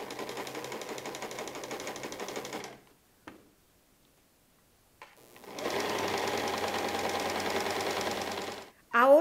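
A sewing machine runs steadily, stitching a straight seam on a skirt, close and clear. It stops for a couple of seconds, then starts again and runs for several more seconds before a brief clatter at the end.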